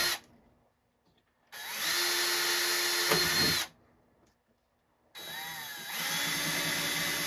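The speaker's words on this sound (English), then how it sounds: "Now I need to drill some holes for those wires to go through that piece of quarter inch." A power drill with a 5/32 bit whirs in two long bursts, high and steady, with near-silent pauses between them as it bores holes through a quarter-inch panel of a Neo Geo arcade cabinet.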